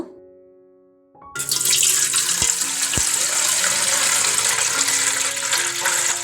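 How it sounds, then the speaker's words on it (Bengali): Water gushes steadily into a large pot set on a stove for making a jaggery syrup for semai pitha. The loud pour starts abruptly after a second of near silence and runs unbroken to the end, with a couple of sharp knocks along the way. "এই হাঁড়িতে গুড়ের শিরা তৈরি করব এই জন্য হাঁড়ির মধ্যে বেশ কিছুটা পানি দিব"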